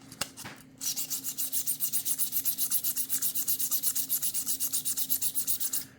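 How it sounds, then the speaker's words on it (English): Sandpaper works by hand along a crazy lace agate gemstone knife in quick, even back-and-forth strokes. The rasping is close and rhythmic and keeps going steadily after a couple of brief knocks at the start. "And you're just going to sand it until all those marks, those deep kind of ridges and valleys are out of it."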